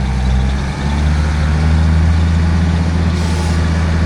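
A Case IH Magnum 7220 Pro tractor idling close by, a loud, steady low diesel rumble with a constant drone and little variation, heard on its own with no talk.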